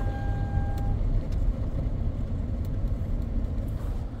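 A car with an automatic gearbox that has a turbine speed sensor circuit fault drives along a road. Its engine gives a steady, loud, low rumble, and a brief tone sounds early on.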